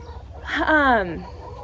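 A hen gives a drawn-out, rising-and-falling squawk up close, set against a low steady hum of the coop.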